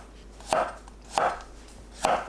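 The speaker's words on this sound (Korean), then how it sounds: "마늘을 편으로 썰어주세요." Garlic being sliced with a knife on a cutting board, three crisp, evenly spaced knife strikes, each a short thud with a bright edge, close and clear with quiet in between.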